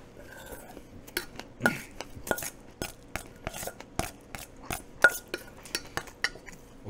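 Dishwashing at a restaurant sink: pots, dishes and cutlery clink and clatter in a steady stream of sharp, close knocks, with no talking.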